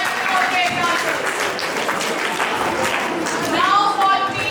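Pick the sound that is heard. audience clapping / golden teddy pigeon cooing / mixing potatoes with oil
audience clapping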